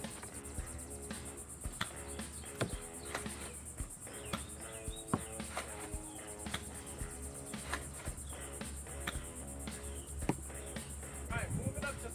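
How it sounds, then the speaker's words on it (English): Cicadas drone loudly and steadily outdoors, a dense continuous buzzing that fills the background without pause throughout. "Sorry for the cicada bugs. They're going off in the background."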